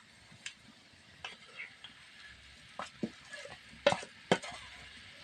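Raw mango pickle with garlic and a little chili powder stirred in a pan, soft scrapes and clicks of the spoon over a faint low sizzle, close but quiet, with a few sharper knocks.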